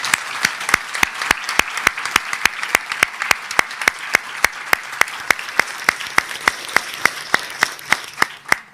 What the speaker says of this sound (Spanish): Lo saludamos con un cálido aplauso